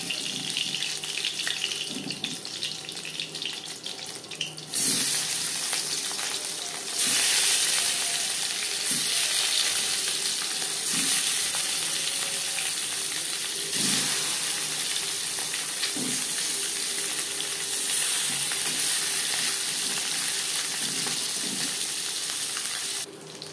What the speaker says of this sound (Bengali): প্রথম ব্যাচে মাছ ও মাছের মাথা ভাজা হয়ে গেছে